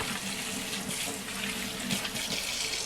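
Hands are washed with soap and water at a kitchen sink during a live cooking demo after handling raw meat, with a tap running steadily and water splashing close by, alone without talk.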